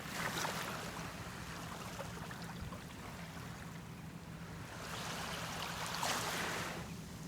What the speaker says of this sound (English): you can go ahead and enjoy the ocean sounds